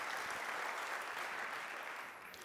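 An audience applauds at a talk on technology and policy in Chicago, a dense, even patter of many hands clapping a short way off that fades slightly toward the end.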